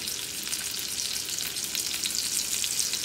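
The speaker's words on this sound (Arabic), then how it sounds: "غنجيب داك الصدر ديال الدجاج بحال هكا وغنحطو في المقله سخونه" Chicken breast seasoned with pepper and salt sizzles in a hot pan, a close, steady hiss with fine crackling spatter that continues without pause and with no voices.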